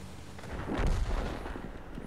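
A single heavy boom from a tank cannon in World of Tanks rolls in and fades over about a second, muffled and somewhat distant, with no speech.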